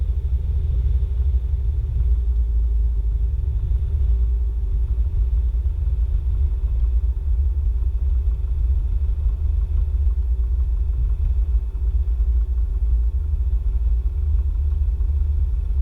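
Piper Cherokee light aircraft rolling down the runway while braking after landing, a steady close low-pitched rumble with a faint mid engine hum, continuous and unbroken with no talk.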